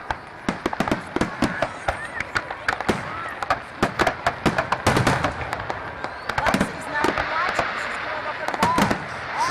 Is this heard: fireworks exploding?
yes